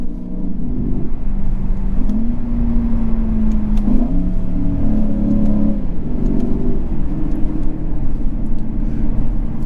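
The 2022 Lexus IS500's engine revs loudly and close by, its pitch climbing, dipping and climbing again through several throttle blips, with a continuous rough growl and no talking over it.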